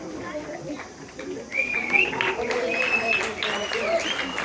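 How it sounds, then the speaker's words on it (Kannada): An audience at a stage event claps in a dense, even patter, and partway through a voice begins speaking and continues over the clapping, which carries on underneath. "ಎಲ್ಲ ಒಂದ್ಸಲಿ ಜೋರ್ ಚಪ್ಪಾಳೆ ತಗೊಳ್ಳಿ"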